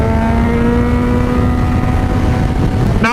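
A Yamaha FZ6R motorcycle engine drones loudly and steadily under throttle while riding, ending with a quick change in tone as it shifts gear without the clutch.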